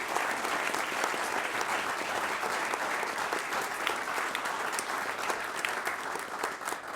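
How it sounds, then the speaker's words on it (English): An audience at a school board recognition meeting breaks into sustained applause, dense steady clapping filling the room for several seconds. "So one huge round of applause for all our Koch Classroom mini grants."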